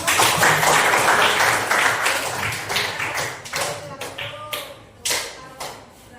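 An audience gives a burst of loud, full applause that gradually dies away into a few separate claps. Faint voices carry beneath the clapping.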